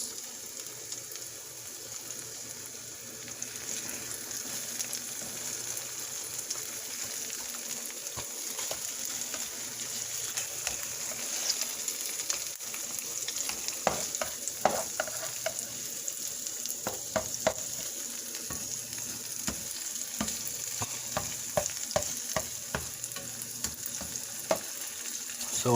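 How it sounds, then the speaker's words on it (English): Ripe plantain slices frying in a pan for a Jamaican breakfast, a steady close sizzle with bursts of crackle and scraping stir sounds in the later half, no talking. "And I'm about to fry plantain"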